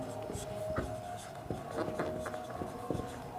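A pen or pencil writes on paper with soft, close scratching strokes and small taps, steady at a low level, with a faint voice in the background.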